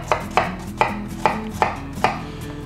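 Six crisp knife strikes on a cutting board, evenly spaced and close by, as half an onion is sliced into thin pieces with no voices.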